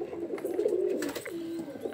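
Pigeons on a rooftop loft give soft, throaty coos, a few rolling calls close by over faint background rustle, with no voices.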